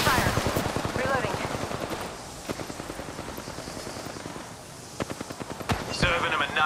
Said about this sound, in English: Taking shots. Being shot at. Opening fire.